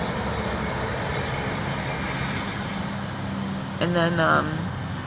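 A truck rumbles past outside, a loud, steady roadway drone that fills the whole stretch while a voice speaks briefly near the end.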